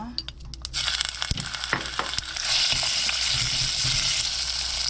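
Meat stir-fried in a spoonful of sesame oil in an earthenware pot, with sharp clacks and scrapes of a spoon at first, then a loud, steady sizzle that swells as the meat cooks; no one speaks.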